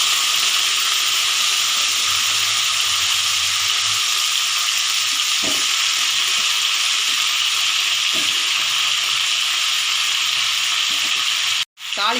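Drumstick (moringa) pieces sizzle in hot oil with mustard seeds and cumin for a tamarind kuzhambu, a steady close hiss with a few light clicks and pops, briefly cut off near the end.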